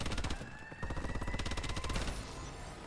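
A sentry gun firing in Call of Duty Advanced Warfare, fast regular bursts of shots in a tight rhythm, fairly faint and brief with other game sounds around it.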